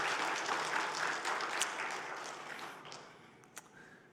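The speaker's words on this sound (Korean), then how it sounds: "우리 다시 한번 초등부 우리 친구들에게 박수 한번 합니다" A church congregation at a Sunday service applauds the elementary school children with soft, dense clapping that gradually fades out, and a few isolated claps trail at the end.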